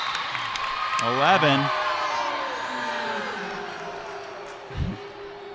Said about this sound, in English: you can hear the crowd's reaction to that call